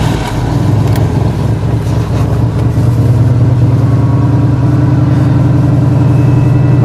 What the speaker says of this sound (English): Always count on your Oldsmobile engines on a cold winter morn.